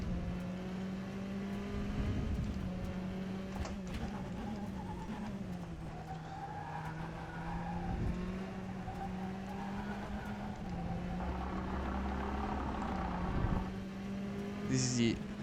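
A race car in the rFactor 2 driving simulator drones steadily, its engine pitch rising and falling through gear changes, while a driver talks over it throughout.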